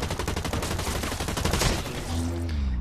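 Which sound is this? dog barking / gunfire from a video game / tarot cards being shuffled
gunfire from a video game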